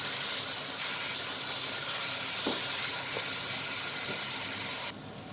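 Minced meat sizzling as it is sautéed in a pan, a steady close hiss with a few soft stirring knocks, which drops in level near the end, no talking.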